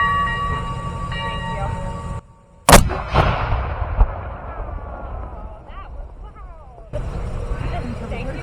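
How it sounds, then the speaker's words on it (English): A single loud blast from an authentic Civil War cannon booms out after a brief hush, followed by a long rumbling echo that fades before background noise returns. "And that is how we load and fire the cannon."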